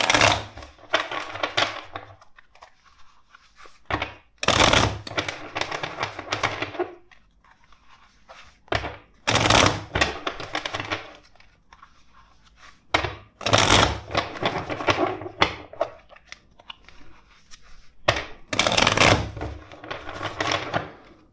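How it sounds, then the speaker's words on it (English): A deck of tarot cards is shuffled repeatedly, with four separate bursts of riffling, slapping card noise close by, each separated by quieter handling and pauses. "let's shuffle the deck four times."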